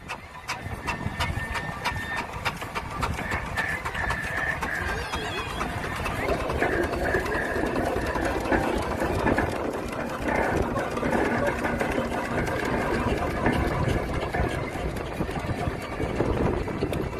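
A small steam engine runs at the Lincoln steam fair with a rapid, regular mechanical chuffing and clatter, steady and fairly close, while a commentator talks over it.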